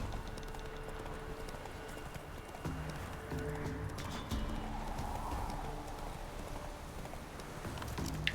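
Roach the horse galloping in The Witcher 3, a steady rhythmic clatter of hooves running continuously at close range, with a faint whinny and soft rain-like ambience underneath.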